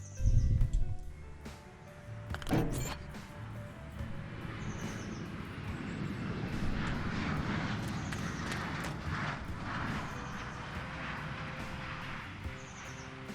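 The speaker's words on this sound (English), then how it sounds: "I can hear a plane, can't see one." A propeller airplane drones overhead in the trucking game Let's go Trucking, a steady distant hum that rises and falls gently across the scene with no talk.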